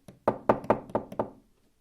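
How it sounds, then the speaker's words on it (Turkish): Knocking on a door, six quick firm knocks in a steady rhythm, close and loud with no voices. "Kapıyı çalayım."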